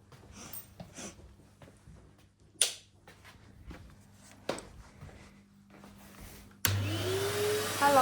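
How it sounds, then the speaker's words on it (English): A household vacuum cleaner in a kitchen starts up with a sudden loud whine and then roars steadily near the microphone, after quieter clunks and handling noises. "Right, I've plugged the vacuum in."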